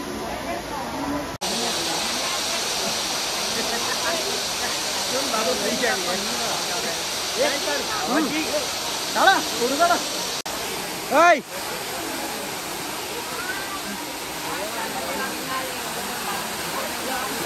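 A waterfall near Tirupati gives a loud, steady hiss of falling water that fills the whole stretch, with faint voices and brief bumps rising now and then above the roar.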